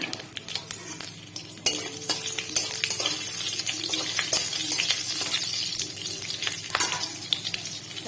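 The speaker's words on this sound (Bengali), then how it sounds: "এবার এটা আমি সর্ষের তেল দিয়ে দিচ্ছি ফোড়ন দিয়ে দিচ্ছি" Whole spices tempering in hot mustard oil for a spicy okra and puti fish curry crackle and sizzle steadily, broken by sharp clinks and scrapes of a utensil stirring against the pan, close up and without talk.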